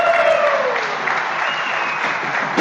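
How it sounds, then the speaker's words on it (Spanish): A church congregation breaks into sustained, dense applause that fills the whole stretch at an even, loud level, with many hands clapping together in a reverberant hall. "Dele un aplauso a Dios, por favor."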